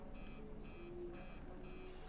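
An alarm in the video game Death Stranding beeps faintly in a steady repeating pattern of short tones over a low background rumble.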